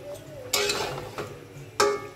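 A spoon scrapes and knocks a few times against a pot while boal fish simmers in tomato broth with small Bogura potatoes, sharp clinks over a low bubbling background.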